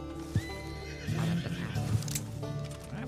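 A horse in the Red Dead Redemption 2 video game neighs with a long wavering whinny, close and clear, along with some hoof clopping and snorting in the background.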